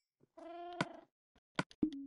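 A cat in the video game Minecraft gives a clear, close meow, then a couple of short softer mews after a brief pause, with clicks between them.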